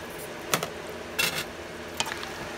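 Eggplant, string beans and beans being stirred in a pot, with a few distinct scraping strokes of a spoon over a faint background simmer, nearby and with no voices.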